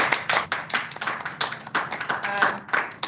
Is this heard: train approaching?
no